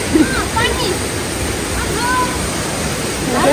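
Clear stream water flows on a Bukhansan hiking trail, a constant broadband rush filling the scene with faint voices occasionally heard over it.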